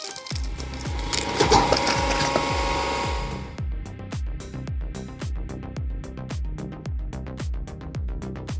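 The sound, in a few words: homemade firewood processing machine with splitting blade running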